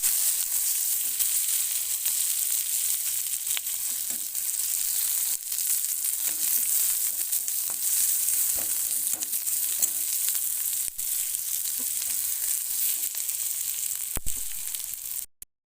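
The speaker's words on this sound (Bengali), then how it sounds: "রসুন লঙ্কা এগুলোকে আমি ভালো করে ভেজে নেব" Garlic, chilies and onion frying in a pan, a steady soft hiss of sizzling oil with occasional faint stirring taps, continuous and fairly quiet until it cuts off.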